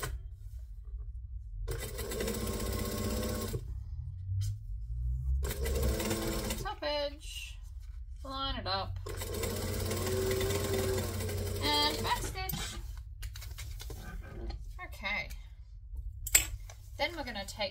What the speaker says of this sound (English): And then we're going to top stitch along here, making sure that everything's lined up nicely.